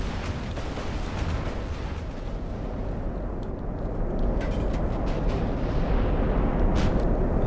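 Twelve 16-inch battleship guns fire in an Ultimate Admiral: Dreadnoughts naval battle, a dense, continuous roll of low booming rumble that grows slightly heavier partway through, with no voices.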